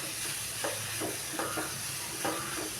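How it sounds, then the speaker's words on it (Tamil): Cabbage stir-fry with grated coconut being stirred in a pan, a soft steady sizzle broken by several scraping strokes of a spatula at an unhurried rhythm, close by with no talking. "இப்போ தேங்காய் துருவி சேர்த்துக்கலாம். நல்லா கிளறி விட்டுக்கலாம்."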